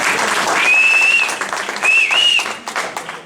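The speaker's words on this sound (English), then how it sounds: "So big round of applause for that." Loud applause from a crowd at a company family night anniversary celebration, dense clapping with a couple of sharp whistles cutting through, then tapering off near the end.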